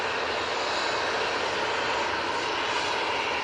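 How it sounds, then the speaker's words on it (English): An Airbus A320 jet taking off from Manchester Airport for Barcelona gives a steady, moderately distant engine roar, even and unbroken throughout a few seconds, with no voices. "This is the A320 off to Barcelona."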